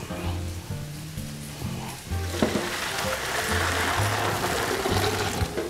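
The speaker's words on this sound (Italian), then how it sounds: "Nel frattempo che si sta stufando il radicchio" Radicchio stewing in a pan, a sizzle and bubbling hiss that swells partway through, with low tonal hum underneath and faint handling sounds, close and steady.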